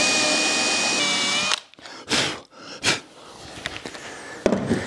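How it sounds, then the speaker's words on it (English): A power drill with a countersink bit whirs steadily into wood for over a second, then stops; a few short bursts of drilling follow with quiet handling noises between. "Now with a countersink bit, I don't want to drill all the way through"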